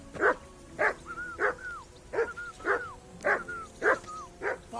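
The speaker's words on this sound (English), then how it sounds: "Whistle at that mutt of yours to stop barking!" Dog barking in the video game Kingdom Come Deliverance 2, about nine sharp, evenly spaced barks, close and loud, with brief whistled tones between them.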